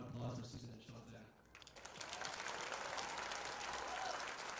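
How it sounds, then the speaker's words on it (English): A graduation ceremony crowd begins clapping after a brief lull, and the sustained applause carries on steadily under a murmuring crowd. "So I ask that you all give a round of applause for Susan and Sean there."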